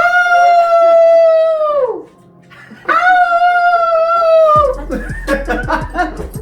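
A dog howls at home in two long, loud, wavering howls that slide down in pitch at the end, followed by laughter and lively chatter.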